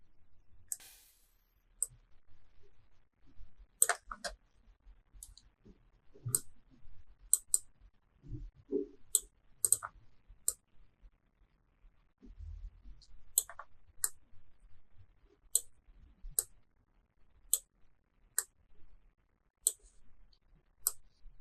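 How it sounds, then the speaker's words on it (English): Computer mouse clicks and keyboard keystrokes during After Effects editing work: quiet, close, irregular sharp clicks scattered across a near-silent background, with a few soft low bumps. "we're just going to type 0 in the little box"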